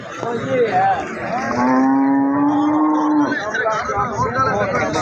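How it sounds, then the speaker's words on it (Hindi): A medium-sized Sahiwal cow at an animal market lets out one long, loud, close moo lasting a couple of seconds, with quieter lowing before and after over a busy background of voices. "सामने जनाब साहिवाल खड़ी है मीडियम साइज में"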